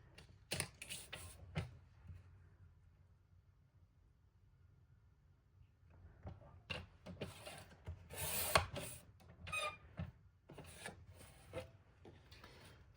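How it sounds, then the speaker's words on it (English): A paper trimmer slices a half-inch paper strip while a Classic Pooh album is being decorated, giving sharp clicks and clacks, then a brief rasping slide of the blade mid-clip and more scattered mechanical taps. No one speaks. "I'm going to cut a 1/2 inch strip and see what that will give me"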